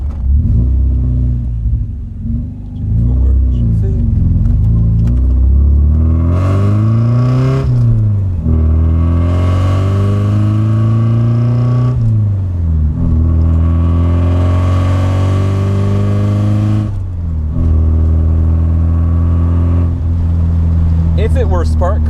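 A car engine under launch control revs up repeatedly against the rev limiter, loud and close, with pitch climbing, holding, then dropping in several long sweeps, and a voice talking over it.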